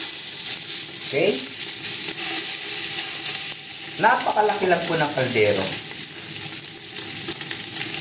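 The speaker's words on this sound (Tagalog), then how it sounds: "Ilalagay na po natin mga boss yung taba para magmantika po siya, magmamantika." Beef fat renders in a very large pot with a steady, close sizzle and frying crackle that runs the whole time, while someone talks briefly over it.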